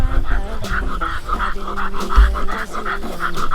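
Dogs pant rapidly and rhythmically close by, breathing hard over a low rumbling background.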